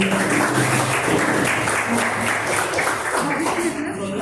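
Students clapping at a college annual gathering and prize distribution, a dense crowd of hands applauding steadily at a moderate distance, with a voice speaking over it.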